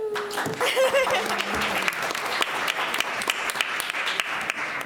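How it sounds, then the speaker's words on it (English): Clapping at a law student convention, with a voice speaking over the start before the claps continue as a lively, uneven patter from a small group. "I'm just applauding to my own statements."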